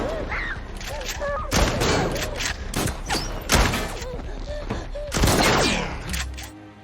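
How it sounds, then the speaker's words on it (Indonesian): Gunfire in an action film chase, with several sharp shots spaced a second or so apart, thumps between them and voices underneath. "Chris meminta Elisa untuk menunduk karena dia akan menembak orang yang mengejarnya"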